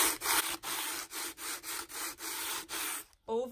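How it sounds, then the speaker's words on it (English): Hand sanding of wooden furniture with 120-grit sandpaper, rapid back-and-forth strokes in a steady rhythm of about ten passes, close and fairly loud, with no talk over it. "So we are sanding these raised areas."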